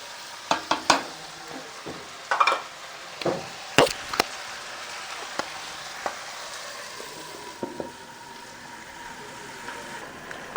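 Tomatoes and green chillies sautéing in a pan for a country chicken curry, with a quiet, steady sizzle broken by scattered clinks and scrapes of stirring, several sharp knocks early on, no talk.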